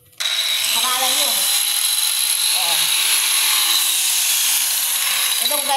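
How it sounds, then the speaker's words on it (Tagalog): Angle grinder for cutting a stone countertop spins up suddenly and runs as a loud, steady high whine, close by, with brief voices under the noise. "Itong grinder guys, pang tabas ng bato."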